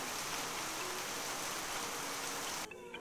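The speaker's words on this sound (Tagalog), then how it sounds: "Pabalik ng kumbento ay biglang umulan ng malakas." Heavy, steady rain pours down in a rural mountain area, a dense, loud hiss that cuts off sharply near the end.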